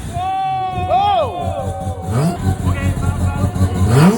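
Car engine revving at the Retro Havoc car meet in Mutiara Damansara: a low engine rumble with rising rev sweeps comes in partway through, while people talk over it.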